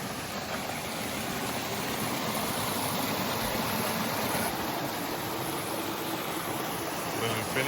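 A rainforest creek flows near a waterfall, giving a steady, full rushing of water that stays even and unbroken throughout.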